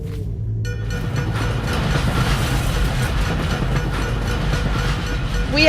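A train rolls past in the stealth game Dishonored, heavy rumbling and rattling wheels on rails holding steady for several seconds, with a faint rising tone at the end.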